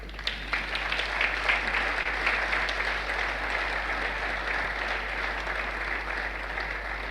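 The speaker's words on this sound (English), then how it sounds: "Keep clapping, keep clapping" A conference audience applauds after an economic outlook presentation in Nigeria, a steady roomful of clapping that carries on for several seconds with a constant low hum beneath it.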